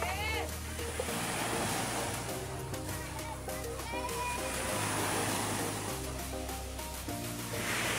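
Sea waves wash onto a beach in a continuous roar mixed with wind noise, while faint musical tones sit underneath.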